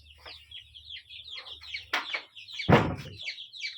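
Desi chickens cluck and chatter close by in short, repeated bursts, with a louder squawk and a sharp flapping or scuffling noise toward the end, against otherwise quiet surroundings.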